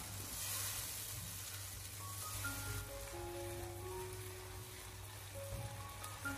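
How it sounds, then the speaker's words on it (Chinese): Diced tomatoes stir-fried in a wok over low heat, giving a steady soft sizzle with faint scraping of the spatula, close and continuous with no talk. "再把切好的番茄丁放进来，继续的用小火给它煸炒"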